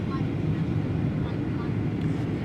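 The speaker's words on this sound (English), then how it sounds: "We're now going to come into Melbourne basically right on time and with a very nice approach, it looks like, for runway" Rex Boeing 737 airliner on approach into Melbourne, heard from inside the cabin as a steady, low engine and airflow rumble at moderate level throughout.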